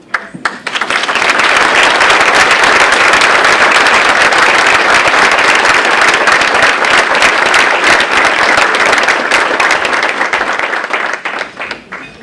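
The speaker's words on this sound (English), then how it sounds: "Jeannie, we applaud you" A large crowd at a Heroes and Leaders awards event gives sustained, loud applause for an honoree recognized for conservation work, steady clapping that fills most of the stretch before tapering off.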